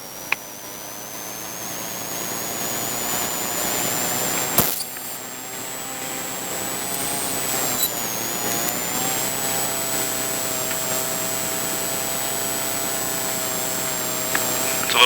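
A Ferrari 488 Challenge Evo race car idles and rolls forward on a track, a loud steady engine drone with a high whine holding throughout and no talk over it.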